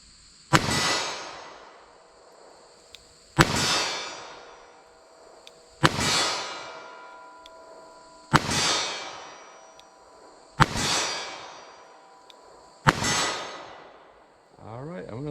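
.38 Special +P revolver shots fired at a target 25 yards away outdoors, six sharp loud reports spaced about two and a half seconds apart, each ringing out with a decaying echo.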